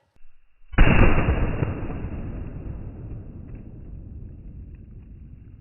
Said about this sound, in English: Well, I guess the shotgun shoots high.